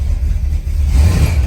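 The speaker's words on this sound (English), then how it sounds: "We'll give her a little throttle." An old dually truck's engine rumbles deep and close, swelling slightly under a light touch of throttle.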